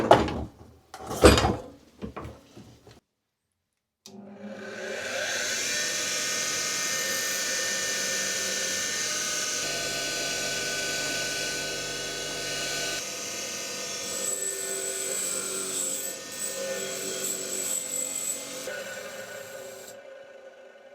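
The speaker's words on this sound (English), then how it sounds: "I'm just going to grab out my wire wheel and give them a clean up" A wire wheel grinds rust off metal plates, a loud sustained whirring scrape running steadily for about sixteen seconds after a few sharp knocks and clunks at the start.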